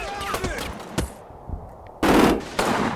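Short, sharp bursts of rifle and machine-gun fire in Combat Mission Final Blitzkrieg, with rapid shots early on and two louder, sustained volleys near the end, alongside some talk.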